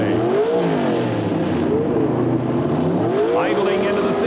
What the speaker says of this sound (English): Idling into the staging beams and lots of RPM, and Gordy Rivera with a tremendous hole sho